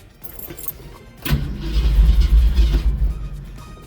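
A carbureted engine cranks and catches after a jingle of keys, then revs with a loud rough rumble that rises and falls unevenly as it struggles to settle into an idle.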